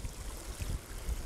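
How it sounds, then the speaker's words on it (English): Cloudy, sediment-laden water rushing down a furrow cut by a center pivot irrigation tire, a low, steady churning flow close by with faint wind. "The water's just charging down"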